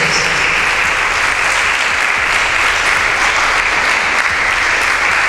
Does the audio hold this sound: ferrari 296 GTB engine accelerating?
no